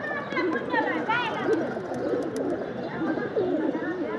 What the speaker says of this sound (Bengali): নট ডাকতেছে ধাপ্পিতে